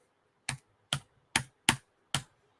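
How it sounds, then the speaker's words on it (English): Five sharp, separate keystrokes on a computer keyboard, spaced about half a second apart, close and fairly loud against a quiet background as text is deleted. "If you could hear the tapping, that is me attacking my keyboard"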